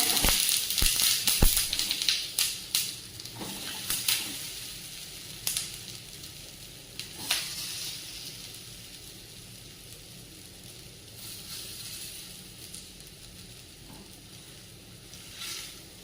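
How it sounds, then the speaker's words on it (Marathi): Drumstick-leaf and coriander vadis shallow fry in oil with mustard seeds, cumin and sesame, with sharp crackles and pops early that settle into a quieter, steady sizzle. "वरून पण आपण थोडस तेल टाकून घेणार आहोत परतण्यासाठी आपण हे वड्या सगळ्या शालो फ्राय करतोय"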